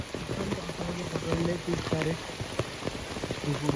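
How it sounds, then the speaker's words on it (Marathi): Heavy monsoon rain pours down steadily during an outdoor crab hunt, a dense hiss of drops hitting wet ground and water, while people talk over it close to the microphone. "अजून काय हा तुफान पाऊस आणि त्याच्यात आम्ही खेकडे पकडतो हे बघा"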